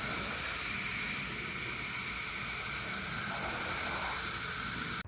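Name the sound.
spraying 30 Seconds outdoor cleaner on house fascia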